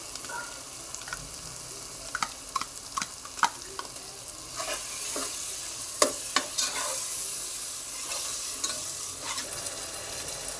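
Yogurt goes into a sizzling, oily masala for egg biryani and is stirred in a pan, with a constant frying hiss and repeated clicks and scrapes of the spoon.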